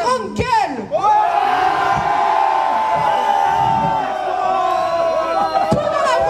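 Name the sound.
carnival crowd shouting and jeering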